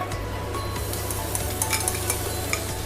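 Pork stir-frying in a hot pan for a Thai mango kaprao stir-fry, with a loud, steady sizzle and constant stirring and a few sharper scrapes and clicks throughout.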